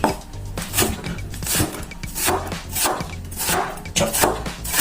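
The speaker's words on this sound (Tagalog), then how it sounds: "Chop carrots" Carrots being chopped on a cutting board in a home kitchen, a steady run of close knife taps under background music.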